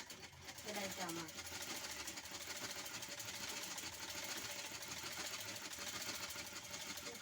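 A sewing machine stitches a sari with a steady, close mechanical whir that runs throughout, while a voice talks over it.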